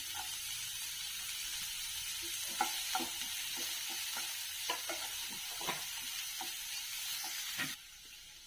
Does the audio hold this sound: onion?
yes